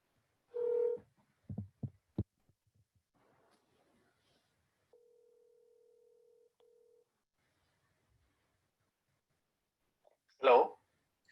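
Telephone dialing tones for an outgoing call to a public commenter during a city council webinar meeting: a steady tone holds for about two seconds with a brief gap, among a few short clicks and bursts, with no talk.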